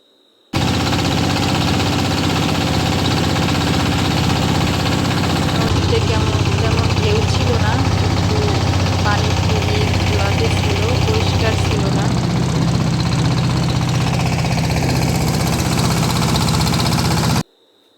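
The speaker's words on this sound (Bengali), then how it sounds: "আর নৌকা তো যে চলতেই ছিল" A boat engine drones steadily and loudly throughout on the Padma River near the Padma Bridge, a continuous low mechanical rumble with vibration and faint voices beneath it.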